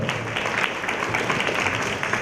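Applause from a crowd at a family reunion gathering, a brief, continuous wash of many hands clapping at steady moderate loudness with no pauses.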